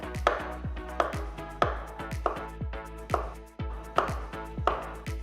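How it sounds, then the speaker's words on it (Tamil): A knife slices bananas into thin small pieces with a steady run of about eight crisp, evenly spaced chops on a board, close and clear with no talk. "இப்போ இதை சின்ன சின்னதாக மெலிசாக கட் பண்ணிவிடுங்க"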